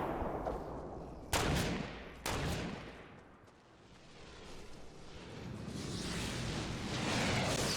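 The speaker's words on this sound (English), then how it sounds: "Now I see rockets from the left that are hitting him" Rockets and gunfire in a Fortnite match: two sharp blasts early on, then a rushing, rumbling wash of explosions that builds toward the end, fairly loud, with no talking.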